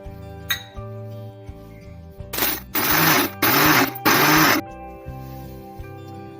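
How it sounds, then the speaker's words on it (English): An electric grinder turns sugar into powdered sugar in three loud, even bursts of whirring grind separated by short pauses, with steady background music throughout. "Now we will grind the sugar."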